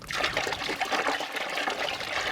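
Water sprays steadily from a pump during a dog wash, a continuous close hissing trickle with no break.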